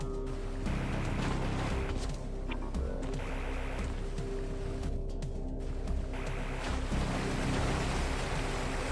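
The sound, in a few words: waterfalls in the video game AM2R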